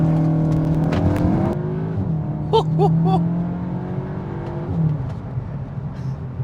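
A powerful 370bhp ABT-tuned Cupra Formentor SUV engine idles and rumbles, then gives a few quick sharp revs in a row before settling back to a steady, throaty drone.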